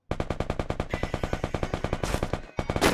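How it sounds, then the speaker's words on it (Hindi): Rapid automatic gunfire in a battle royale video game, a dense run of sharp, evenly spaced shots that slurs into a continuous burst and then resumes loudly after a short gap. "इधर कोई बंदा फायरिंग कर रहा है देखता हूँ"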